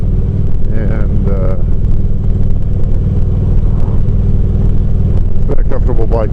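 A touring motorcycle with a six-speed transmission rides along, its engine a loud, steady low rumble mixed with wind noise throughout, while someone talks over it.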